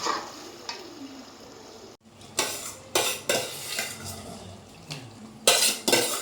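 Cooked dal for Pongal coconut chutney is stirred in a metal pot, the spoon knocking and scraping the sides in several sharp, close clatters with short pauses between.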